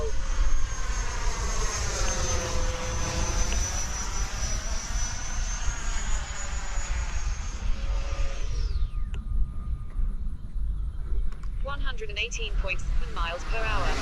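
A heavily loaded RC airplane powered from a 6-volt pack whines overhead, its motor tone sustained and gently wavering before fading away, followed by faint closer clatter.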